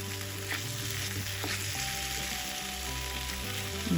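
Sardines sizzle steadily in hot oil in a frying pan, a continuous close, even crackle with a low hum beneath and no talk.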